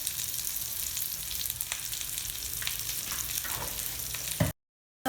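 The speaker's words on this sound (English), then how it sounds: "The onions are fried." Onions frying in a pan with hing, turmeric and salt, giving a steady, close sizzling hiss with occasional faint clinks that runs unbroken until it cuts off abruptly near the end.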